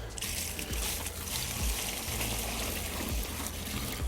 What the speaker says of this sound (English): we're gonna throw some water in